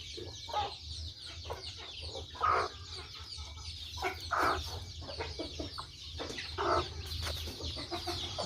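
Desi hens cluck softly and repeatedly near their newly hatched chicks, with thin chick peeps mixed in, in a quiet, close farm setting.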